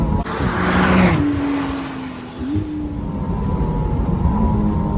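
A 2025 McLaren Artura Spider engine revving hard and shifting through gears on a drive, a loud, close, rising roar with pitch climbing, dropping at each shift, then climbing again, heard without talk.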